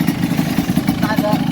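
A tuned Yamaha RX King two-stroke motorcycle with ported block, PWK 30 carburetor, carbon reeds and a stainless exhaust runs steadily, its rough engine note loud and continuous.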